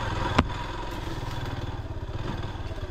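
A motorcycle engine runs steadily with a low rumbling idle beside a river, with a brief sharp thump near the start.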